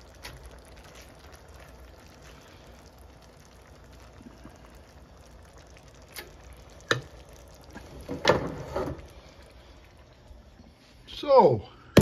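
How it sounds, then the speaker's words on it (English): A paddle stirrer works through a pan of chili with tomatoes, with a low bubbling simmer underneath and a few wet scrapes and knocks of stirring near the end. "Gotta get this paddle stirrer going here."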